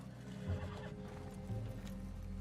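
A horse in Red Dead Redemption 2 neighs and whinnies twice, fairly close, over steady clip-clop of hooves and a low game background hum.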